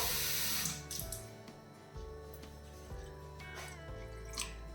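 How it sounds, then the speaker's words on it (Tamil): Water splashes and trickles into a bowl of vermicelli being soaked for puttu, with a few short pours and drips, fairly close and without talk. "திருப்பியும் தண்ணி சேர்த்துட்டேன்"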